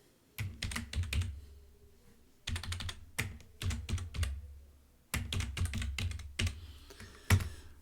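Quick bursts of clicky key presses on a computer keyboard as a file name is typed, close-up, in uneven clusters separated by brief pauses, with no talking.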